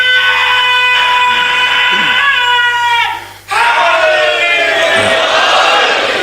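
A large crowd in an imambargah roars a religious chant together, loud and massed, swelling in two bursts with a brief drop between them.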